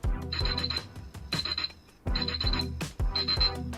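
Countdown timer alarm on a Divoom Ditoo Plus retro pixel-art portable Bluetooth speaker, four loud, close bursts of rapid electronic beeping separated by short pauses.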